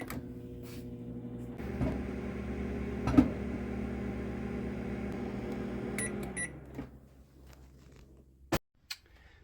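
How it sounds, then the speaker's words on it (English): A microwave oven powered by a BLUETTI AC200L portable power station hums steadily for several seconds, then winds down, followed by a couple of sharp clicks or beeps. "My microwave's working."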